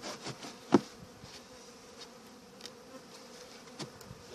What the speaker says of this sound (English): And then we'll run these bees down off the top here quickly.